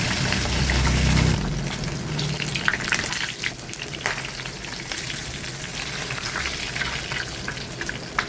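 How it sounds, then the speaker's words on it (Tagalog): Fish frying in oil in a home kitchen, a continuous crackling sizzle with frequent small pops, close and moderately loud, with no talking throughout. "Mas masarap pag iprito muna siya dahil para matanggal yung langsa ng isda."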